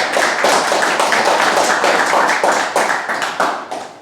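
An audience at a political New Year's address applauding, close loud rhythmic claps that swell and then thin out toward the end.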